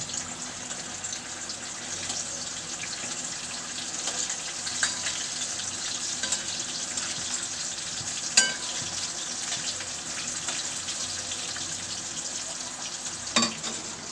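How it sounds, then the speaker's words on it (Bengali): Pointed gourd (potol) fries in a pan, giving a steady, moderate sizzling hiss with a few sharp clicks and utensil knocks scattered across the stretch, and no voices. "পটল ভাজা হচ্ছে আর"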